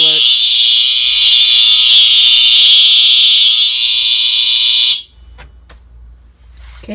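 A very loud MS2 fire alarm horn blares steadily during a system test, then cuts off abruptly, leaving low room noise and a voice starting to speak.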